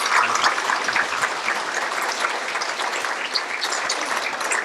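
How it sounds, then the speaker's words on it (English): Applause for the students of the month at a school citizen-of-the-month gathering: a room of people clapping steadily and fairly loudly for several seconds, dense and even throughout. "let's give our students of the month in here a round of applause"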